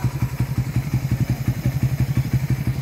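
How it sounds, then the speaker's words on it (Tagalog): Suzuki Raider 150 motorcycle engine idling close up, a loud steady rapid thumping putter with an even rhythm and no voices. "okay na kay Kuya Vic na motor"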